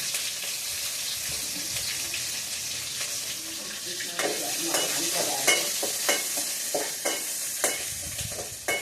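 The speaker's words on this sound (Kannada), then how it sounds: "ಮತ್ತೆ ಕರ್ಬೇವಿನ ಸೊಪ್ಪು ಆದಮೇಲೆ ಮೆಣಸಿನ್ಕಾಯಿ ಹಾಕ್ತಾ ಇದೀವಿ" Curry leaves and green chillies fry in oil over a low flame for uppittu, a steady soft sizzle with a utensil stirring and scraping against the pan in light irregular knocks throughout.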